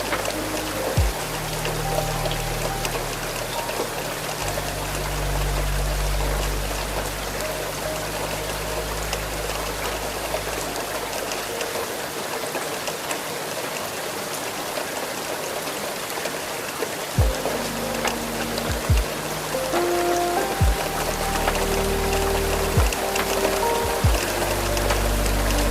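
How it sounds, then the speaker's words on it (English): Heavy rain hits a train window on a night run through the Scottish Highlands, a steady broadband wash of water on glass with a low rumble underneath and occasional brief knocks, continuous and close throughout. "carried at last on the sound of the rain"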